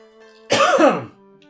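A person with a granola bar stuck in the throat clears it once in a loud, close, rasping burst lasting about half a second, then falls quiet.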